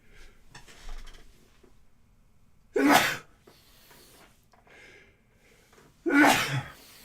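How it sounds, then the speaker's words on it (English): A person sneezes twice, two loud sharp bursts a few seconds apart, with faint breathing and light clinking of dishes in the quiet gaps. "I'm going to sneeze again."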